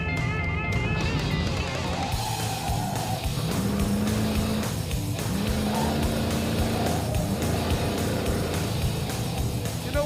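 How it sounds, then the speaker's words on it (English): A low-powered Roadkill project car runs nearly wide open around the Laguna Seca race track, its engine droning steadily and loud with shifting pitch and brief tire noise throughout. "It's like I can drive almost whole track wide open because it has no power."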